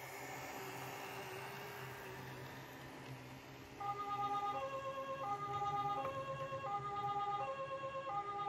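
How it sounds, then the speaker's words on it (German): A distant ambulance siren wails in a steady alternating two-tone pattern, rising in clarity partway through over a low background rumble of an outdoor town setting. "Aus der Ferne hörten wir den Krankenwagen."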